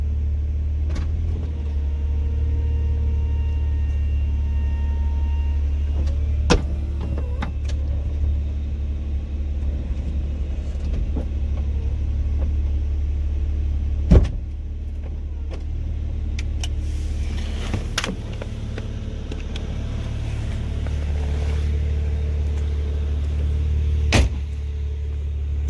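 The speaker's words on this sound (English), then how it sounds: "now I'm going to put the top back down" The convertible top of a 2009 BMW Z4 sDrive35i lowering, a steady electric motor whir over low idling rumble, punctuated by several sharp mechanical clunks as the roof panels fold and latch.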